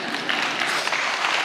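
Steady applause from a crowd, a dense wash of many hands clapping at once, sustained and fairly loud throughout with no voices standing out.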